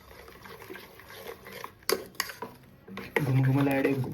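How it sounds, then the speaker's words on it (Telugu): A ladle scrapes and clinks against a pot while Ugadi pachadi is stirred, giving sharp metallic taps and wet mixing sounds, with someone speaking softly nearby. "నెక్స్ట్ గరిటె తీసుకుని మొత్తం మిక్స్ ఇట్"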